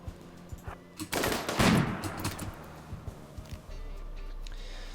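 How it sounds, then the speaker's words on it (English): Gunfire in a squad-based video game, heard as scattered close shots and then a dense burst of rapid automatic fire. After that come more sporadic single shots over a low background rumble. "Who's he firing at?"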